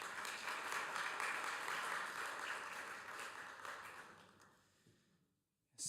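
An audience at a peace conference claps in a dense, sustained round of applause that gradually thins and fades to near silence, then a sound cuts in abruptly at the end.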